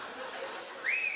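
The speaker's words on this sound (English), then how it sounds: "Whistle." An audience member at a comedy show lets out a short, bright whistle that rises in pitch near the end, heard over a low crowd murmur.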